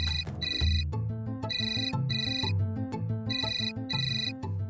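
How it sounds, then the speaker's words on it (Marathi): A phone ringtone plays alone, a steady repeating electronic melody with bright tones in regular bursts, close and clear throughout. "सूरजचाच फोन आहे, घ्या"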